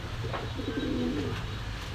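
Pakistani high flyer pigeons at a shop coo in one soft, rolling low phrase, close and clear over a steady background hum.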